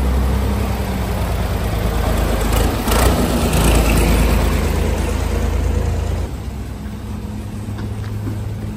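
A car engine rumbles steadily nearby as a vehicle drives in at an outdoor spot by the sea, holding loud and then dropping in level partway through.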